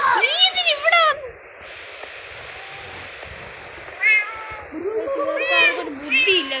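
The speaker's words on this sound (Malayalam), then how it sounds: "ഈ പൂച്ച എന്തിനാ ഇവിടെ വന്നേ?" A cat meowing loudly and repeatedly at close range, sharp rising and falling cries in bursts at the start and again toward the end, with a quieter pause between.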